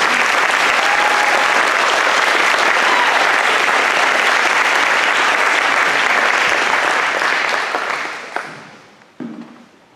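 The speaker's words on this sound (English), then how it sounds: "So how about a round of applause for all of our chorus members?" An audience at a spring band concert applauds the chorus members with loud, sustained clapping that fades out near the end.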